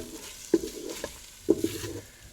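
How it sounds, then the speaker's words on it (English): Food fries in a Ninja cooker on its sauté and sear setting, with a soft low sizzle broken by a few sharp scrapes and clacks of a utensil stirring the pan, close and quiet, no talking. "we are on the saute and sear feature. You can use it just like a frying pan."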